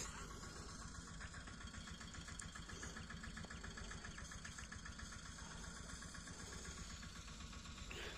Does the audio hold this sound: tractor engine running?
yes